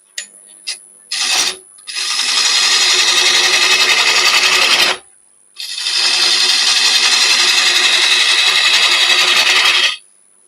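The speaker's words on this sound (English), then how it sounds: "this is the Sorby Excelsior, titanium coated, 3/8 bull gouge, which I have got set with a fingernail" A Sorby Excelsior titanium-coated 3/8 bowl gouge with a fingernail grind cuts wood on a lathe, giving two long, loud, steady rasping cuts of about three and four seconds after a few short taps, with no talk.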